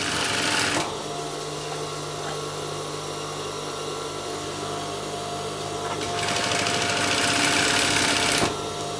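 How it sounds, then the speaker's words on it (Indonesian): Sewing machine running continuously while stitching the body seams of drawstring shorts, a loud, close, steady mechanical whir with a brief stop near the start and a speed change toward the end, no talking. "Di sini sama, kita jahit sesuai kampuh yang kita buat."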